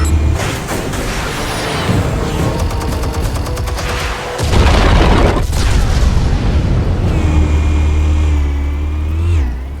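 Explosives detonate in a Batman video game, starting with a volley of rapid gunfire-like cracks and followed by heavy, loud booming blasts and a sustained low roar, with a high whine trailing off at the end.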